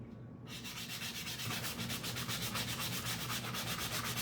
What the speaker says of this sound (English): Let's sand this sucker.